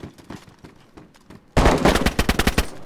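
Gunfire in DayZ, a loud rapid burst of repeated shots arriving suddenly after quieter scattered sounds, close and sustained for over a second.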